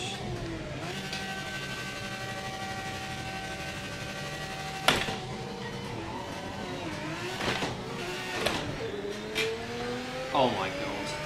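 A Group C race car in a racing video game revs and shifts, its engine pitch climbing and falling over a steady drone with brief tyre squeals, under some talk.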